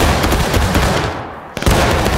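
A musket volley in War of Rights, from a line of infantry in a skirmish match: a dense crackling rattle of many shots overlapping, then a drop toward near quiet before more sharp reports burst out close and loud, with no talking.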